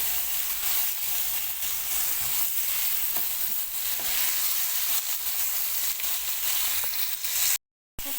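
Chicken sizzles and hisses steadily in a hot pan for shish tawook, a dense close frying sound with occasional stirring scrapes and no talking, cut off by a brief silence near the end.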